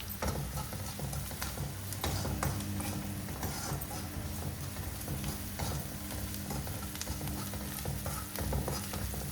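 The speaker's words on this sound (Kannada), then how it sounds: "ಮಸಾಲೆ ಇದೆಲ್ಲ ಫ್ರೈ ಆಗತ್ತೈತಿ" Loud, steady sizzle of spices frying in a pan, with scraping and clattering of stirring throughout.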